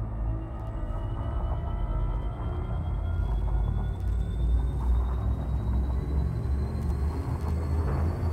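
A spaceship's drive charges up in a space game. A thin tone climbs slowly and steadily over a heavy, constant engine rumble that lasts the whole stretch.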